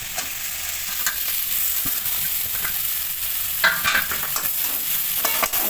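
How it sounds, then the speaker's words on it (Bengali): Grated cauliflower and potato mixture with turmeric is stirred in a frying pan, giving a soft sizzle with repeated scraping and clinking strokes of the spoon, close by and without speech. "আলুটা মিশিয়ে নেবো"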